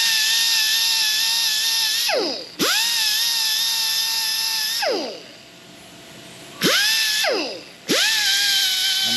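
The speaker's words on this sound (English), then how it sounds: "I'm hitting this just very lightly with this Scotch-Brite wheel on the grinder, just to kind of take off any additional burrs" A bench grinder fitted with a Scotch-Brite wheel whines at high pitch while deburring a small metal part, the tone dipping and recovering as the piece is pressed on lightly several times.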